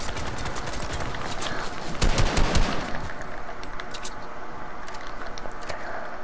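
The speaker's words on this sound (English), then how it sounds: "it looks like there's somebody who was shooting at me over here" Gunfire in the video game Fortnite: a rapid burst of close, crackling automatic shots swells in the middle, with scattered single pops and faint ticking before and after over constant game background noise.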